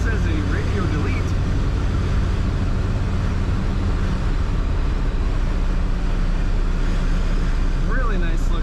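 A 1963 Chevrolet Biscayne 2-door post sedan cruises along a road with a loud, steady low engine and road rumble, while a voice speaks briefly at the start and again at the end.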